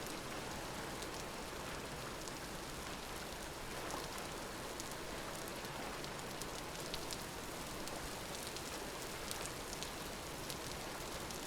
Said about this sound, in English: It'd be easier if it wasn't raining. The rain is dancing on the water as well.